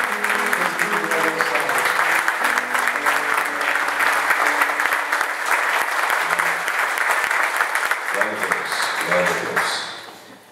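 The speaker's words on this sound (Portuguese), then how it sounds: "Vamos dar um aplauso para o Senhor Jesus." A church congregation applauds during a Portuguese-language service, sustained dense clapping filling the room while voices call out and speak over it, fading at the close.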